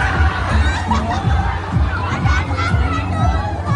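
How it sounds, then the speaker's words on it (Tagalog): Riders scream on a fast-spinning fairground ride at a corn festival in Taber, Alberta, a loud mix of shrieks and crowd noise that rises and falls in waves. "nakita nyo yung mga sigawan na yan?"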